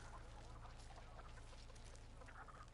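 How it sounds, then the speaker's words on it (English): Chickens cluck continuously in a room inside The Texas Chain Saw Massacre video game, steady and fairly close over a constant background hum. "There's a lot of chickens in that room though"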